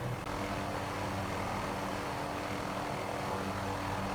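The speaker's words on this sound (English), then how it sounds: "gently apply power, bring it into a hover, and rotate the helicopter southbound" Steady droning engine of a 500E helicopter taking off on Mount Rainier, with a constant whir of rotor blades, loud and continuous, with no voices.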